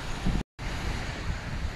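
Strong wind at a water park in Turkey buffets the microphone as a steady broadband roar with low rumbling gusts, interrupted by one brief dropout of silence.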